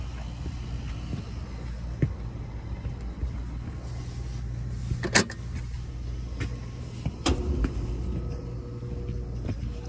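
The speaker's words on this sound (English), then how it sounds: "All right, our blower's on." An HVAC unit's blower runs as a steady low rumbling hum throughout, close and even, with a few brief clicks and knocks over it.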